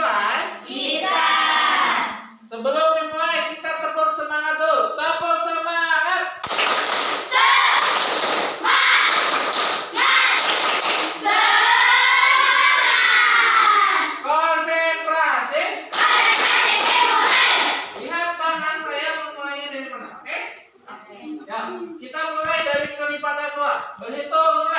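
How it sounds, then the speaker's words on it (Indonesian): A classroom of children does the rhythmic 'tepuk semangat' clapping cheer, sharp patterned claps mixed with loud chanted voices, starting and stopping in bursts over the whole stretch, close and energetic. "Sebelum dimulai kita tepuk semangat dulu."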